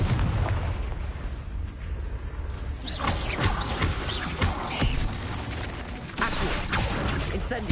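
Booming blasts from the Confringo explosive spell in the video game Hogwarts Legacy, a series of heavy bursts and rumbles layered over game music and background effects.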